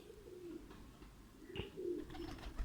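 A Teddy pigeon coos softly nearby, low rolling murmurs repeating in a quiet room with a faint tap or two.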